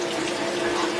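Hot water with dish soap rushes steadily through a wand with a screen, a loud, close, continuous gush with no break.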